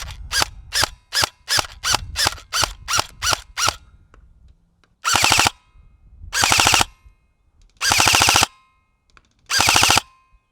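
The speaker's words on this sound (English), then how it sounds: "the gun sounds definitely not very healthy" A worn, beat-up airsoft gun fires BBs, first as a quick string of sharp single shots, then as four rattling full-auto bursts with pauses between them, crisp and close with a harsh, screechy edge.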